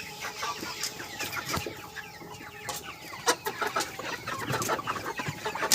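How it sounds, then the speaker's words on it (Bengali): A poultry hen clucks repeatedly and anxiously while someone catches it on a broiler farm, with close, uneven calls over soft rustling and no speech. "তো এই মুরগিটা ধরবো।"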